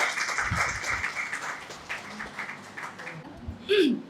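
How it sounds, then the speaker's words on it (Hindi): An audience at the inaugural session of a university course claps in welcome for a guest speaker, a fairly quiet, dense patter of hands that fades out after a few seconds. "ज़ोरदार तालियों से स्वागत कीजिए साथी"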